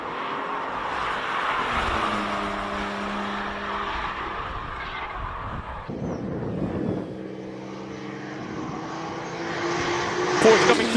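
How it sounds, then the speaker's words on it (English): A Porsche race car at the Speed Classic Cape Town Hill Climb powers past, its engine note loud and close, rising and falling through gear changes as it attacks the final right-hander. "Porsche coming through nice and comfortably."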